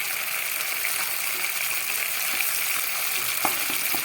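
Tomato paste with ginger paste sizzling in a pan for a vegetarian cauliflower roast, a steady close frying hiss with a few small pops throughout.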